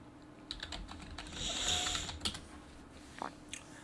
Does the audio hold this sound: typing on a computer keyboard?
yes